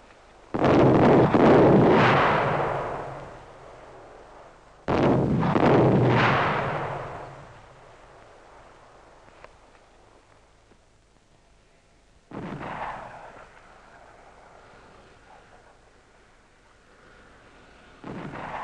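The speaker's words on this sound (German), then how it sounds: "Feindliches Artilleriefeuer!" Enemy artillery fire during an anti-tank combat drill, heard as two loud, heavy booming blasts a few seconds apart with rumbling decay, followed by a more distant thud and lingering rumble.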